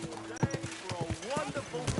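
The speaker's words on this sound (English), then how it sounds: "Do you want that horse to trample me?" Horse hooves clip-clop on a busy market street, a run of rhythmic close thuds beneath loud overlapping talk and shouting from people nearby.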